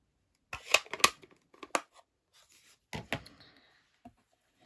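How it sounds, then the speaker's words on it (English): Scissors snip card stock in short, crisp clusters of cuts with pauses between them, close and quiet, during fussy cutting for a handmade stamped card. "It's going to involve a bit of fussy cutting."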